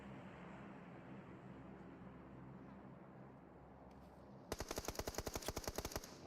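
A rapid burst of automatic gunfire in an esports shooter match starts abruptly after a stretch of low rumbling background, with about a dozen close, evenly spaced shots in quick succession.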